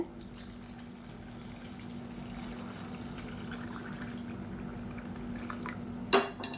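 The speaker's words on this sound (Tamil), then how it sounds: "இந்த ஸ்டேஜில் தண்ணி சேர்த்துக்கலாம். நல்லா சூடான தண்ணியாக சேர்த்துக்கோங்க." Hot water is poured into a pan of tomato gravy for paruppu urundai kulambu, a steady, quiet pour lasting several seconds, ending with a sharp clink of a vessel near the end.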